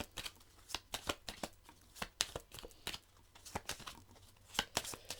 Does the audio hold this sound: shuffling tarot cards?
yes